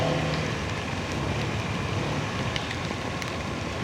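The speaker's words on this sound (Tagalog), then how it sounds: "Lakas na naman ang ulan dito" Heavy rain during a motorcycle ride at Biak na Bato National Park, a dense, steady roar of downpour close by with no talk.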